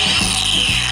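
A Ryobi brushless cordless power tool runs loudly up close with a steady high-pitched whine and a rough grinding edge, never letting up.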